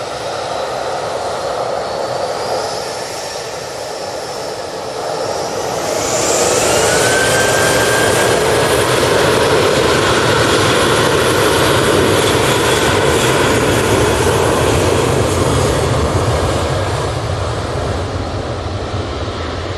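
Ryanair airliner jet engines at Manchester Airport, a loud continuous roar with a whining tone that swells midway and stays strong, heard from the spotting area with no talking.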